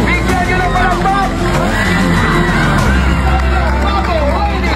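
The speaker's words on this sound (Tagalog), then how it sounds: "Bigyan nyo na palakpak!" A crowd at a ladies' 14-and-under final heat cheers and claps for the champion, a dense continuous roar of voices and whoops mixed with an announcer's voice.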